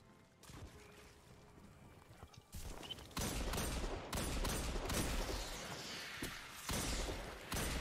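Luna's Howl hand cannon firing in Destiny 2, with repeated loud sharp gunshots arriving in quick bursts over game background noise after a quieter opening.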